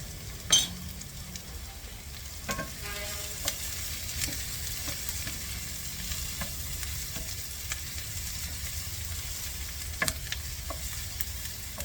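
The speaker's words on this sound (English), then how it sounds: "Throw your garlic in, because it's just starting to brown." Garlic sizzling in a hot pan with oil as it begins to brown, a steady near crackle of frying with a few sharp clinks and stirring scrapes over about twelve seconds.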